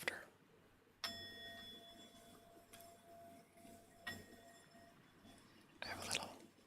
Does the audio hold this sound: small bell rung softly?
yes